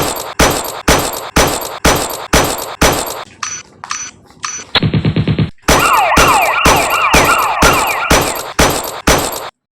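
A police siren wails in a short film shootout, a rising and falling tone emerging beneath rapid, loud repeated gunshots that continue before and during it.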